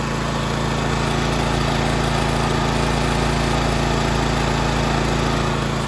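A Honda EX1000 generator engine idles at low speed, a loud, steady, even hum and buzz that holds unchanged from start to finish with no talk.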